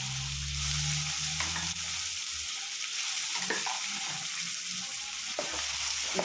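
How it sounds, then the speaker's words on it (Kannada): Horseradish chutney fries in a pan with turmeric, making a continuous soft sizzle broken by intermittent scraping stirs and light utensil knocks, with a low hum at the start. "ಇವಾಗ ಚೆನ್ನಾಗಿ ಫ್ರೈ ಮಾಡ್ಕೊಳ್ಳೋಣ"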